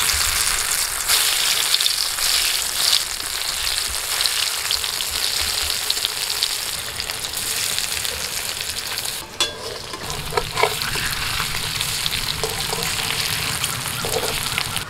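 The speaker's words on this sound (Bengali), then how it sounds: "এখন আমি ওই একই তেলের মধ্যে পনিরটাকে ভেজে নিচ্ছি।" Marinated paneer pieces frying in oil, with a loud, dense, continuous sizzle heard close up, joined partway through by a few clinks and scrapes of gentle stirring, with no talking.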